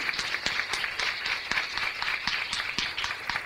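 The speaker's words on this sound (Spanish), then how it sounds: "peço aplausos de todos vocês para o professor Humberto Maturana" An audience at an international conference with Chilean educator Humberto Maturana claps for the speaker, a sustained moderate burst of many hands with distinct sharp claps standing out against the steady patter.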